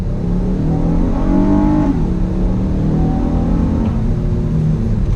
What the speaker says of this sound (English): Let's go ahead and I'll show you a little bit of acceleration.